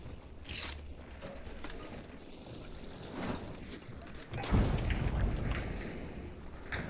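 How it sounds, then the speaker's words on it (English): Grenades go off in Hunt: Showdown as muffled booms, with one heavy, close blast midway through and a rumbling tail beneath scattered fainter pops. "They're throwing grenades at my old spot"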